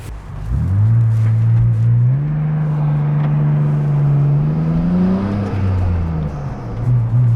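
BMW M2 engine droning steadily as the car drives and accelerates, a loud continuous low tone rising slightly in pitch toward the end, with no speech.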